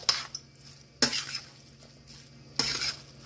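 Stuffed spaghetti squash with vegetable noodles and pasta being stirred with a utensil, giving three sharp scraping clinks against the dish spaced about a second apart, quiet and close with no talk.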